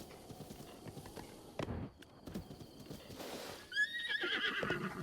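A horse in a Zelda video game whinnies and snorts over the clip-clop of hooves, with a louder whinny near the end and faint ambient game sound behind.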